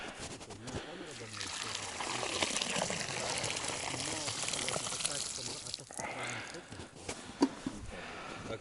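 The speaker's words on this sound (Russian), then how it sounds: "Картошечка. Сейчас водичку сольем." Water from boiled potatoes is poured off, giving a continuous splashing, gushing pour with quieter trickles, all under a voice.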